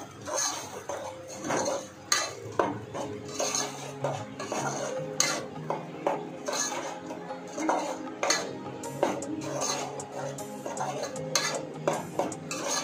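Ground masala paste cooking in oil is stirred in a pan, with repeated spoon scrapes and clinks against the metal over a soft frying hiss that runs on throughout.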